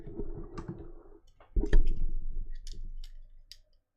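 Sharp snips of wire cutters trimming component legs on a DCC controller circuit board, a few distinct clicks close up over a low background rumble, with no voices.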